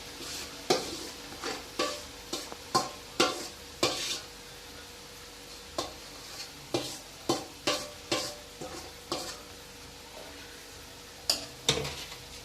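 A spoon stirs vegetables and gravy together in a pan while making Mumbai-style pav bhaji, producing a rhythmic series of fairly faint scraping and clinking strokes over a soft sizzle.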